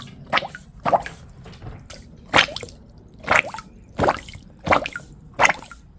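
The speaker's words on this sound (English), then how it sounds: "the water will go and splash where it needs to be cleaned" Water sloshing and splashing in a sitz bath fitted on a toilet, in a series of about eight wet squishy bursts spaced roughly a second apart, close and fairly loud.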